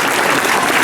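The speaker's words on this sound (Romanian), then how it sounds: "aplauze." Audience applause at a historical reenactment of the last siege of Neamț Fortress in Târgu Neamț, Romania: a loud, dense burst of clapping filling the whole short moment, with no voices standing out.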